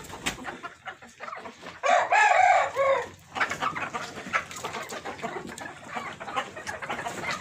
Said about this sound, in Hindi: ये देखें देसी मुर्गी